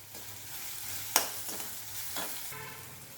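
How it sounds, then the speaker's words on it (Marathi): Grated bitter gourd curry with chili powder and spices sautéed in a pan, a soft sizzle with a few spatula scrapes and one sharp clink, quiet and close. "आता हे व्यवस्थित असं परतून घ्यायचं आहे"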